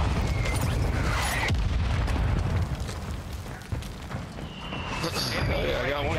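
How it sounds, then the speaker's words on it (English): Booming mortar blasts from a ranked online shooter match erupt loudly in heavy bursts, layered with dense game noise while players talk over it. "They mortar us?"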